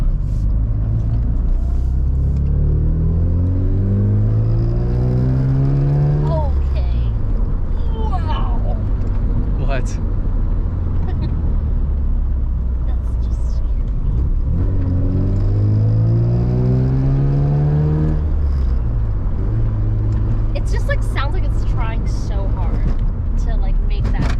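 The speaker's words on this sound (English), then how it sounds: "Clank, clank, clank, rattle." A 1987 Mazda FC RX-7 driving with clanking and rattling, its engine droning loud and close and rising in pitch through repeated accelerations, with a steady rumble of road noise throughout.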